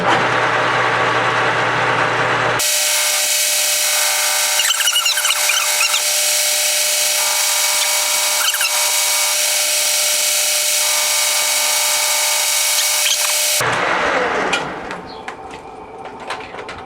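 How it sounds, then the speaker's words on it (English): A metal lathe turns a part for a CB antenna base, a loud, steady mechanical whine with a tonal hum that runs for about eleven seconds, flanked by quieter shop noise before and after. "This is the part I just turned, put it in the 3-jaw."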